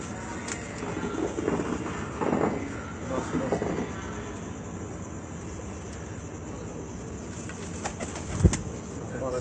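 Pigeons coo in repeated low, soft rolling calls at moderate distance, with someone talking faintly over them and a brief sharp knock near the end.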